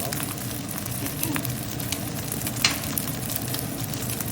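American fried rice with tomato sauce being stir-fried in a pan, a continuous close sizzle with scraping stir strokes and a sharper clink partway through, no voices.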